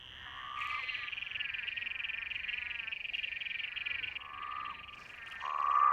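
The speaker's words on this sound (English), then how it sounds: "there are hundreds of frogs in this one pool" Hundreds of frogs of several species call together in a single breeding pool at night: a continuous, loud trilling chorus with bursts of louder croaks near the start and the end.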